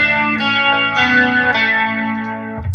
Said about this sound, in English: it's so dominated by this Leslie guitar sound on top of it